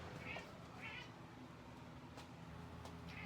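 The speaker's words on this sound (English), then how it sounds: "Oh, the cat thinks it's a toy." A cat meows several times, short separate cries spaced through a quiet room, with faint clicks between them.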